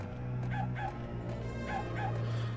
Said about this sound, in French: Je l'entends, le chien.